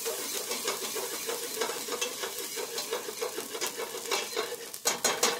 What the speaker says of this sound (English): Stir that around, let that saute.